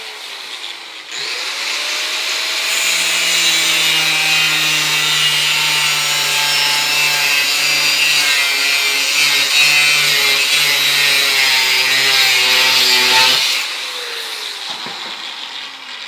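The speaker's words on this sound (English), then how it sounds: "I want to kind of get a comparison how the aluminum cutting wheel did without wax, and now I want to see how it is with wax." An angle grinder with a waxed aluminum cutting wheel bites into aluminum, spinning up, then holding a loud, steady high whine for about twelve seconds before spinning down, alone and close.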